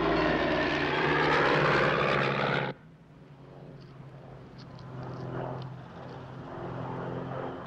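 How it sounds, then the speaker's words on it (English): A light aircraft engine drones loudly overhead, then abruptly drops to a much fainter, distant hum that lingers under quieter background noise. "It's definitely a light aircraft."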